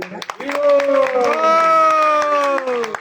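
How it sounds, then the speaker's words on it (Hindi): Cheering and applause from a crowd at a Harinaam Sankirtan devotional program held in a home, loud and continuous, with tonal voices and shouts riding over the clapping. "इनके लिए तालियां बजाइएगा"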